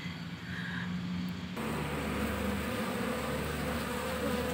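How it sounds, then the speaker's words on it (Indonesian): Honey bees buzz in a dense, steady drone as they are scooped by hand into a wooden hive box, the swarm sound loud and close and growing fuller partway through. "Nah biar lebahnya masuk semua ke dalam."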